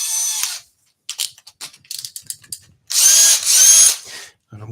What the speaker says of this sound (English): Firstly, I'm just going to drill a couple of holes.